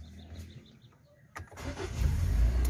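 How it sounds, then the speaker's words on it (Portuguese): A Kia Sportage engine cranks and catches in a workshop, a brief starter burst followed by a rising, steady engine rumble that grows louder toward the end, with faint bird chirps in the background. "Vinícius, dá partida no carro agora aí."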